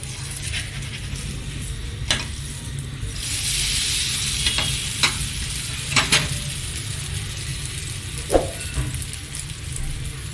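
Rice and semolina pudla frying in oil on a pan, a soft steady sizzle with a swell of hissing as oil is added, then scattered clinks and scrapes of a spatula flipping them, no voices.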